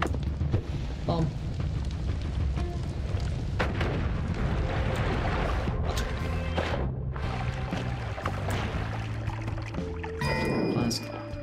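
Explosions and booming blasts in the physics sandbox game Powder Game, with rumbling detonations and crackling debris layered continuously, one bright burst near the end.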